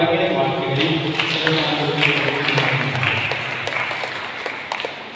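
A congregation at Sunday Mass claps together in a church, a dense and steady round of applause with scattered sharper claps that fades slightly toward the end.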